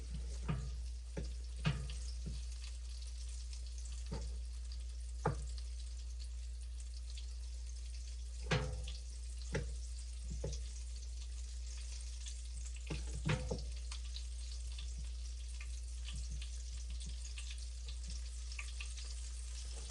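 Venison pieces frying in a cast iron pan, a quiet steady sizzle with occasional soft pops and clicks over a low constant hum, no talking.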